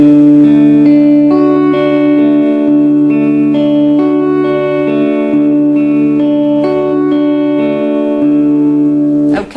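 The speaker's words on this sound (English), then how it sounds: "you can repeat that over and over again and it joins together perfectly like this." A plucked guitar pattern cycles over and over, notes ringing together in a smooth, looping arpeggio, loud and close with light echo.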